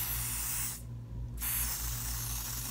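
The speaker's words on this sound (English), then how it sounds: "So I'm going to be spraying this onto my gloss palette." Makeup setting spray misted onto a gloss palette: a close, soft hiss that runs, breaks off briefly, then resumes, over a faint low hum.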